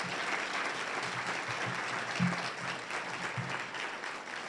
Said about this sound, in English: can we give a round of applause to our students?